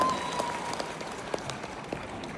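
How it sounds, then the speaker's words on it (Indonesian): Crowd applause at a political speech by Anies Baswedan in Karawang, a dense, steady wash of many hands clapping from across the hall. "Tepuk tangan buat semuanya di sini."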